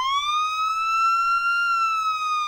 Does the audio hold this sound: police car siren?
yes